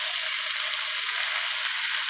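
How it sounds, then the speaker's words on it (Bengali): Ground cumin paste and dry red chilli paste frying in hot oil for a Bengali fish curry, a dense, even hiss that holds steady throughout, close and fairly loud with no voices. "মশলাগুলো একটু ভালো করে এখন কষিয়ে নিব"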